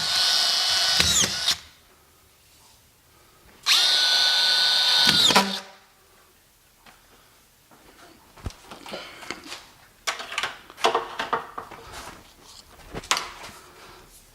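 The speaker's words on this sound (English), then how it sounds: "I have a screw gun that takes collated screws." A collated screw gun drives drywall screws into sheetrock in two loud whirring bursts, followed by softer clicks, rattles and handling noises as the next screw is fed.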